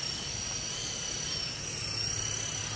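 A steady high-pitched electric whine with a fast rotor buzz from a small Sky Rover Renegade coaxial toy helicopter hovering close by, continuous and unchanging.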